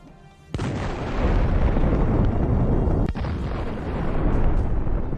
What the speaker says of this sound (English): The hit of the kamikaze drone caused an impressive explosion.